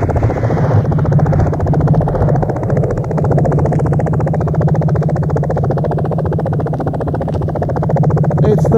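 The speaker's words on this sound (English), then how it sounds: "It's the sound of the choppers." Helicopter rotor chop from military choppers, a loud steady thudding drone running continuously throughout amid a dense jungle breakbeat mix.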